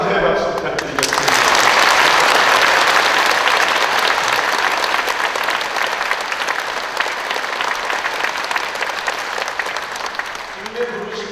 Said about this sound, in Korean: 사랑과 감사의 박수 부탁드리겠습니다.